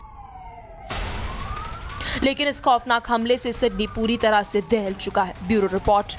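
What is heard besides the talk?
police sirens at Bondi Beach shooting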